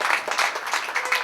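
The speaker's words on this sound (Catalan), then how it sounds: "Un fort aplaudiment" Theatre audience applauding at a youth theatre show, a dense, steady burst of many hands clapping up close with no pause.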